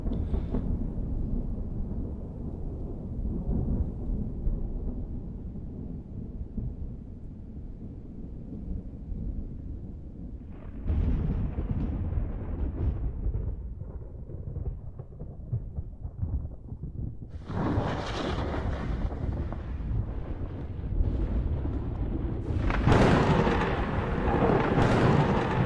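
A thunderstorm inside a video game as a craft falls into Jool: deep, rumbling bursts and roaring gusts that swell and fade, with louder, harsher crashes near the end.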